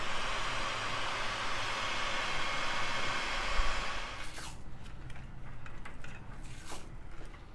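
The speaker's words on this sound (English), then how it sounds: "use a heat gun and shrink the tubes" A heat gun blows a steady, loud hiss while shrinking heat-shrink tubing over wiring connections during a BMW E46 3 Series radio install, cutting off after about four seconds, followed by quiet handling clicks and rustles.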